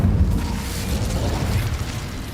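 An Incendio fire spell is cast in Hogwarts Legacy, making a loud, steady roaring, whooshing burst of flame with a deep rumble that holds for a couple of seconds, with no speech.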